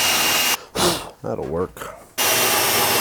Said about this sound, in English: I'm going to take that same hole saw that I used to drill out the latch to drill out this